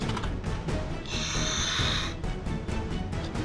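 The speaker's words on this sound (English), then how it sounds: "you can hold the back of its head for a roar attack" An Untamed Fingerlings T-Rex toy giving a roar attack, a raspy, electronic growl lasting about a second and standing out over a steady background of music.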